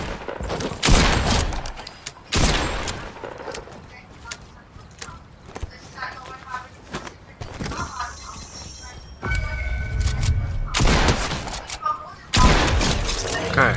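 Fortnite gunfire in a video game match: bursts of loud rapid shots come in several separate volleys, mixed with game effects and players talking over them.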